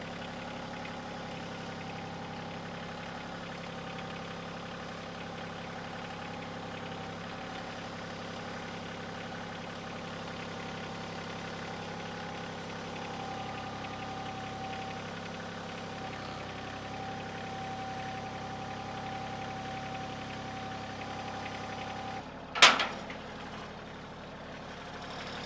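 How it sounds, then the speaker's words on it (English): A tractor engine idles steadily at medium distance for most of the stretch, a constant low droning hum, until a sharp bang near the end cuts it short and leaves quieter background. "we're going to use the tractor,"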